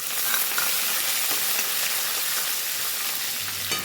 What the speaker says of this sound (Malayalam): കുറച്ച് ഉഴുന്നുപരിപ്പ് ഇട്ട് കൊടുക്കണം. ഒന്ന് ഇളക്കി കൊടുക്കാം കേട്ടോ